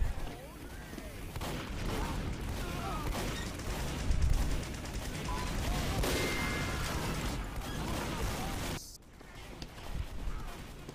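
Sniper rifle shots in a Team Fortress 2 custom gamemode, sharp cracks in a dense, busy game mix that cuts off abruptly near the end, with talk in the background.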